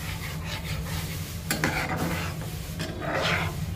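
White sauce egg curry topped with chopped parsley is stirred lightly in a pan, soft scraping strokes under a gentle sizzle, close and quiet.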